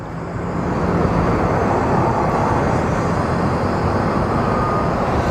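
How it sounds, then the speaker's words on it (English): Southwest airliner departing Phoenix Sky Harbor airport, a loud, broad jet roar swelling in the first second and then holding steady and powerful throughout, with no talk. "So up next we have Southwest 3659 departing for Albuquerque."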